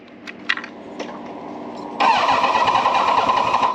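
A 40-year-old motorcycle engine cranks with a few clicks and ticks, then catches and settles into a loud, steady, rumbling idle close by.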